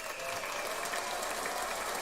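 Steady audience applause fills a late-night-style comedy show segment, a continuous dense wash of clapping at an even level throughout with no voices over it.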